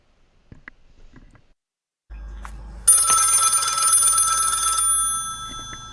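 A telephone rings loudly with a sustained electronic bell tone that cuts in abruptly and holds for about two seconds, after a few faint clicks and a low background hum.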